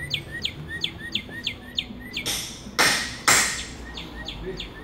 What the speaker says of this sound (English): Interesting thing is the chirping birds.